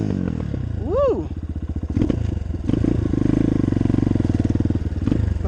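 A 2018 Apollo 250RX dirt bike engine runs on half choke, starting up with a rising rev and then settling into a loud, close, rapid putter with brief revs and some clatter, and a voice briefly calls out.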